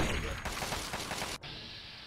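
Gunfire from the game Fallout 3 sounds as a rapid, loud burst of shots rattling together, then cuts off abruptly and leaves a quieter ambient hum.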